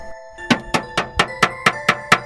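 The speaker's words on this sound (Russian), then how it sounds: "Это был звук удара кулака по стеклу." A fist knocks on window glass: eight sharp, evenly spaced raps close by with a ringing resonance, following a brief silence, and nothing else is heard.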